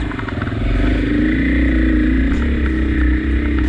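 A KTM 500 EXC dirt bike pulls away hard in fourth gear on an adventure trail ride, its engine loud and close, with a steady throbbing roar and clattering mechanical noise running throughout.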